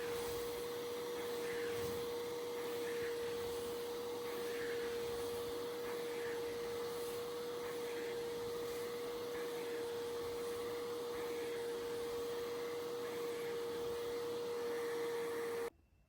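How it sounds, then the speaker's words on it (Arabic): A vacuum cleaner runs over a carpet, giving a steady loud motor whine with a constant hum and airy suction hiss that drones on evenly, then cuts off abruptly at the end. "هاي المكنسة كنت أشتغل فيها كتير ظريفة، عن جد رهيبة"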